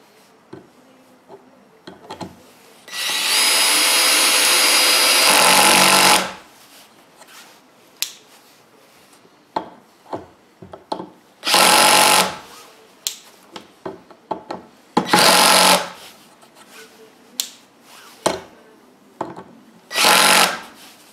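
A Bosch 18V cordless screwdriver on setting 4 drives a screw in one steady whirring run of about three seconds. Shorter bursts follow, with scattered clicks and knocks between them.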